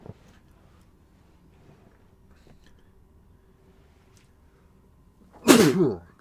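A single sharp human sneeze bursts out near the end after a stretch of quiet low background murmur, loud and close.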